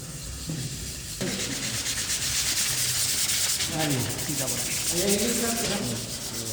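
Steady scratchy rubbing of sandpaper worked by hand in a manufacturing processes lab, continuous back-and-forth strokes, close and fairly loud, with no talking.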